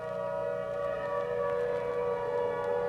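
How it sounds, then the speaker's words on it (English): A long, steady fire siren drones without pause from high atop a red brick engine house, a sustained harmonic wail carrying evenly from a distance with no voices. "Walking home from the supermarket, Nye hears the distant song of the fire siren."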